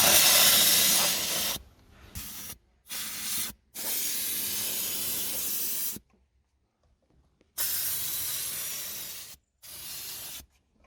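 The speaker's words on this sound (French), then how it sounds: "on met la vapeur dans l'aération" A Kärcher SC3 steam cleaner blowing steam into a car's air vent, loud close hissing bursts of varying length separated by silent pauses.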